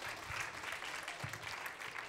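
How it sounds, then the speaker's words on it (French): Distant applause from an audience at a French school or community event, thanking young technicians, a soft continuous patter of clapping with low voices and a couple of faint thumps underneath. "Alors, une bonne main d'applaudissement pour nos charmants jeunes hommes."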